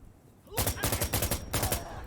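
Rapid automatic gunfire bursts loudly in Insurgency: Sandstorm, several quick volleys of close shots in a stuttering rhythm with a short pause midway.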